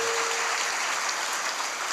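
Loud, dense applause from a crowd welcoming a swami fills the whole stretch, continuous and close, with no talking over it.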